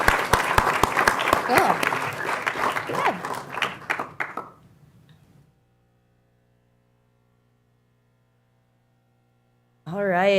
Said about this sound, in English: So give yourselves a round of applause, and thanks so much.